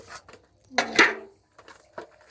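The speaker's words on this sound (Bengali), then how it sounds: "এবার আমি একটু কড়াইটা মেজে নেবো" A kadai and other household dishes being scrubbed and washed, with a few sharp metallic clanks and scraping knocks spaced irregularly and quiet gaps between them, close by.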